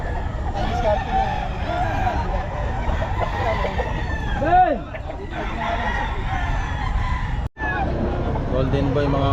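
A Hatch cross gamecock rooster crows once at close range at the Bocaue pet market, its call rising and falling over a busy background of chatter and passing traffic.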